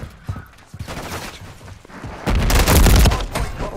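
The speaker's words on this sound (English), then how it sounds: "Frag out!" A frag grenade blast and gunfire in the Call of Duty video game, with scattered shots followed by a loud booming explosion and rumbling burst near the end.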